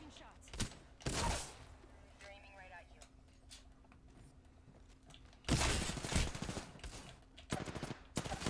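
Shotgun blasts in the video game Apex Legends, a few loud bursts of gunfire separated by quieter stretches, with a voice speaking between the shots.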